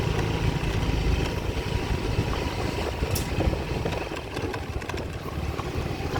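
A Yamaha FreeGo keyless motorcycle runs steadily, its engine a close, continuous mechanical hum and rattle at a constant level with faint clicks over it and no talking.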